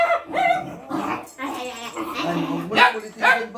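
A small dog yips and whimpers in short bursts indoors, close and fairly loud, mixed in with people talking.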